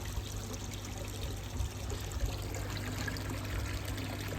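Water pours and trickles steadily into a tub while koi are rinsed off. The splashing is soft and continuous at close range, with no voices.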